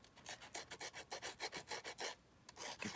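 Scissor blades roughing up the edges of a paper playing card for a junk journal craft: quick, rhythmic rasping scrapes in a steady series of about a dozen strokes, close and quiet with no talk.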